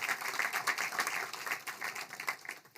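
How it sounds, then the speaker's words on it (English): Conference audience at an agricultural seminar giving a round of applause, moderately distant, even clapping that stays steady for a few seconds in a large hall. "Round of applause."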